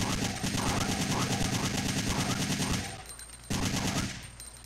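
Rapid automatic gunfire from the video game Resident Evil 3 rattles in a dense, continuous burst, breaks off briefly near the end, then resumes, with a mechanical drone underneath.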